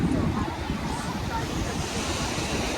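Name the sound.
waves at Sanur beach, Bali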